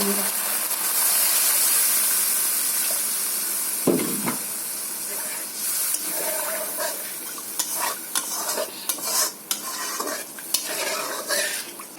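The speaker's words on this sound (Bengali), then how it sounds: "মশলাটা কষা হয়ে গেছে তেল ছেড়ে দিয়েছে তো এখন আমি জল দিয়ে দিচ্ছি" Water poured into fried spice paste for a Bengali bhetki fish curry, with a sudden loud sizzle and hiss that settles into steady bubbling and scraping of a utensil in the pan, close and alone.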